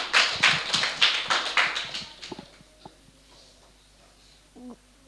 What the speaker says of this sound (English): Clap for Bhumika Bahan ji.